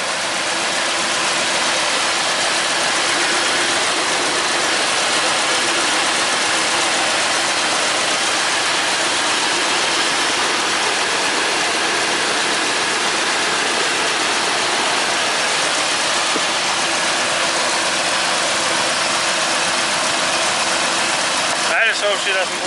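A Dodge Ram truck engine idles steadily and close for over twenty seconds, a continuous broadband rumble with a hissy, rushing character and little change in level.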